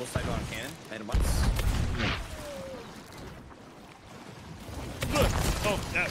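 Booming cannon blasts from Sea of Thieves burst out amid splashing water and clatter, with someone talking excitedly over the action.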